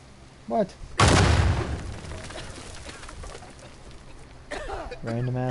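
Explosions and gunfire in the Uncharted 4 video game: a loud burst erupts and rumbles away, with bird coos and game voices around it.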